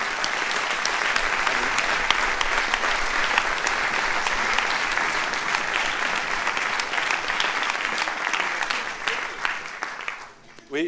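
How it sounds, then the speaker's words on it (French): Audience applause at the FIFA 2016 award ceremony, a sustained burst of many hands clapping in a hall that carries on evenly before cutting off near the end. "On peut les applaudir, oui."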